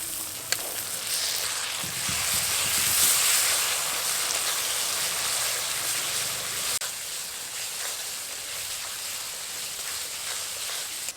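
Ginger paste is stirred into browned onions in a hot frying pan, a steady nearby sizzle with faint scraping and occasional soft clicks running throughout.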